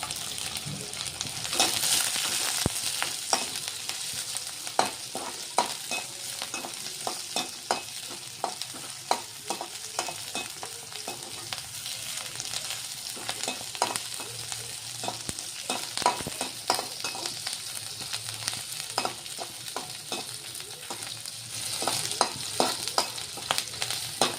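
Green chillies and garlic frying in a pan alongside brinjal, with a continuous close sizzle broken by repeated scraping and clacking strokes of stirring throughout, no speech.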